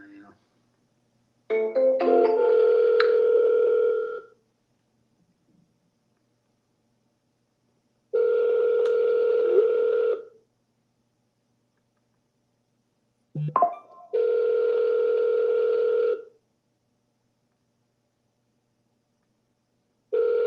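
A telephone voicemail recording tone: three separate, steady electronic beeps, each about two seconds long, with silent gaps between them, clear and close.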